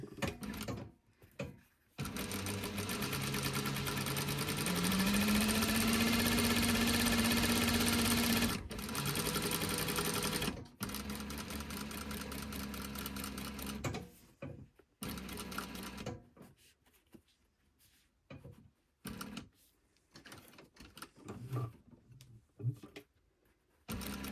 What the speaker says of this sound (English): hold that folded edge down and sew right over it